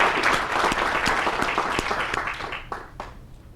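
A groundbreaking ceremony crowd claps, dense and close at first, then thins to fewer, sparser claps as it dies away.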